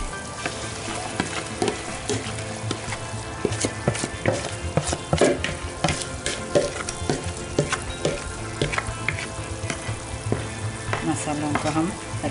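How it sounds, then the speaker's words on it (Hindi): Spices frying in a pan for Hyderabadi karela saalan give off a continuous loud sizzle and crackle, punctuated by sharp scraping stirs and clinks of the spoon. No one speaks. "मसालों को हम अच्छी तरह भून लेंगे।"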